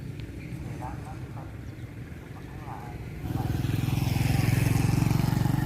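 Motorcycle engines idle and rev near a Thai temple in Samut Prakan, a low rumble that swells louder partway through, with someone talking over it.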